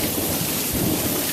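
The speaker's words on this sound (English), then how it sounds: "I'm not bitching that it's raining because we desperately need the rain" Heavy rain pours in a steady, dense hiss, with low rumbling thunder beneath it, loud and continuous, and no voices.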